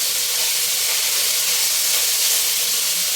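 Garlic and onion sizzling in pork fat in a pan for pochero, a steady, loud, dense hiss with no pauses and no voices over it.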